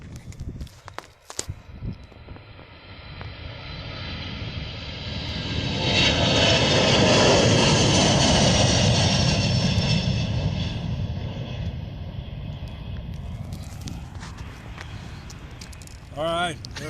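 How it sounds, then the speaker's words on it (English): Fixed-wing airplane engine droning as the aircraft passes at a historic airfield, swelling to a loud peak midway and then fading, with footsteps and scattered noise near the start and end. "And here's the plane. You want to watch that?"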